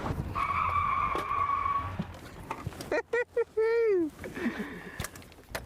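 A car loops out during a deliberate pit-maneuver crash in a van-versus-wagon thrash race, with loud tire skids and squeals rising over crowd noise and a commentator's voice.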